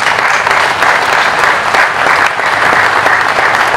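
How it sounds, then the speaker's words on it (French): A crowd applauds a priest at the bikers' Madonna blessing in Porcaro before the ride, with loud, dense, continuous clapping that surges slightly in waves and fills the space. "on l'applaudit bien fort"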